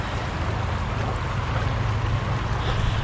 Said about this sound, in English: This is the Soda Butte Creek, and it runs pretty far through here.